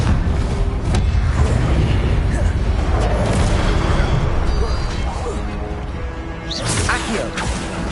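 A Confringo fire spell goes off in the Hogwarts Legacy video game: a loud, dense blast with crashing and whooshing effects that stays heavy for several seconds before a sharp crackle near the end.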